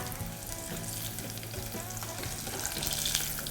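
Crab sticks deep-frying in hot oil give a steady, close sizzle and bubbling throughout, with light stirring and no talking.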